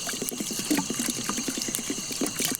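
Water poured into a pot of toor dal for cooking over an outdoor campfire, a steady close splashing pour with rapid bubbling gurgles running throughout.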